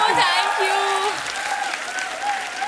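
A television comedy show's studio audience claps to welcome guests onto the stage. The applause is dense and sustained, with crowd noise and a voice speaking over it.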